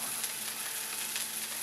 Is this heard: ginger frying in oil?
yes